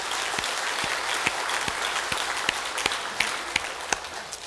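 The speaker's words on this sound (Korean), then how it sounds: "우리 하나님께 감사와 영광의 박수를 올려드립니다." Congregation applauding during a Korean church worship service, a steady wash of many hands clapping at moderate distance with a few sharper individual claps standing out, no voices.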